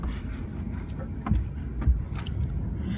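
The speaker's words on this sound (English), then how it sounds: "I just got done driving, now Cameron's driving" A BMW i8 sports car is driven on a test drive at CES, giving a steady low road and engine rumble throughout with a couple of brief bumps, nearby and moderately loud.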